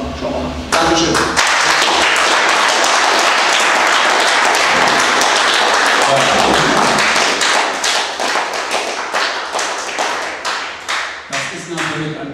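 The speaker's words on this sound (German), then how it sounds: "das ist natürlich ein mehr als berechtigter Applaus" A press conference audience in a room at a football club, after a match between TSG Neustrelitz and FC Anker Wismar, claps loudly and steadily at close range. The dense applause thins near the end into scattered separate claps.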